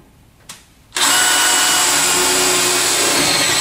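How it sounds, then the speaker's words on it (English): After a faint click and a moment of quiet, a power drill kicks in loudly, drilling a steel panel at a steady high-pitched whine until the end. "First, drill your panel."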